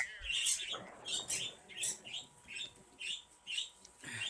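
Birds chirp in the background, a series of rhythmic high tweets repeating about twice a second, fairly faint and distant.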